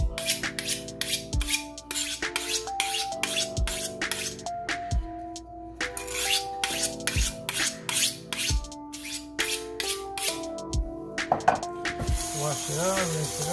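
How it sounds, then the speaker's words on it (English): A kitchen knife is sharpened with a rapid series of rasping, scraping strokes close by, in bursts with short gaps, ending with a few clinks. "Now, I gotta sharpen my knife."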